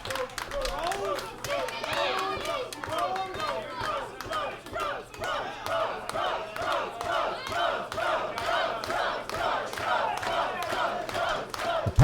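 A capacity crowd at a pro wrestling show cheers and chants continuously, with rhythmic claps and shouts rising and falling throughout, dense and loud, and an announcer's voice talking over the crowd.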